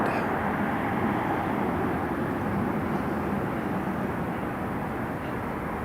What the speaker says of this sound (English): Much longer takeoff roll than I anticipated.